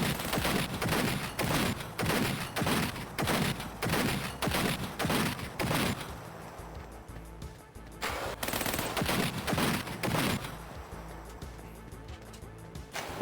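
Rapid bursts of automatic gunfire in an arena shootout in Cyberpunk 2077, loud repeated volleys that pause briefly midway, then resume with sparser, quieter shots.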